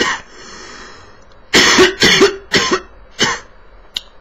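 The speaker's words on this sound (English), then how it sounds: "Excuse me while I cough, I'm going off screen." A run of four harsh, close coughs in quick succession, followed by a faint brief sound, with quiet breathing and room noise before them.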